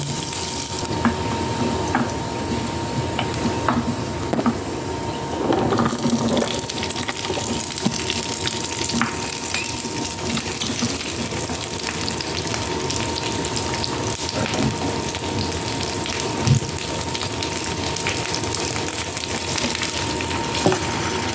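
A little water is poured into a cooking pan while a simple garlic stick vegetable dish cooks. A steady, close rush of water runs the whole time.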